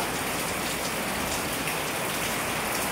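Steady monsoon rain pours down, a dense continuous hiss of drops hitting surfaces, close and uniform with no voices.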